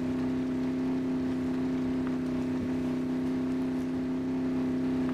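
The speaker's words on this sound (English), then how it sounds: "I'm doing donuts with the trailer, boys!" A CJ7 Renegade engine in MudRunner hums at a steady, constant drone while spinning donuts with a trailer, a smooth continuous whir that never breaks or surges.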